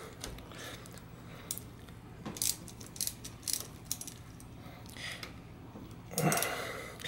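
Wrench loosening a small nut on a bicycle rear derailleur, a few quiet, scattered ratcheting clicks over low background hum, close by with no speech.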